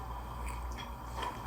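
Quiet, close biting and chewing of hot stone-pot rice mixed with flying fish roe, soft squishy crunches with a slight crispness, no talk.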